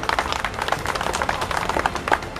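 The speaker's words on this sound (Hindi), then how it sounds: "मैं चाहूँगा सभी अपने किसान भाइयों से पर जोरदार तालियों से उनका स्वागत करें।" Farmers at a sit-in protest applaud to welcome a speaker onto the stage, a dense wash of outdoor clapping running steady and fairly loud throughout, with no clear talk over it.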